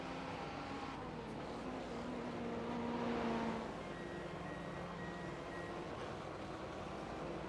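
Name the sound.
GT3 race cars passing in iRacing video game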